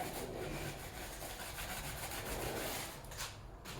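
Dirty sandpaper rubs against a 1999 Ford Mustang Cobra part in quick, close, scratchy strokes, a steady abrasive hiss with a brief pause near the end.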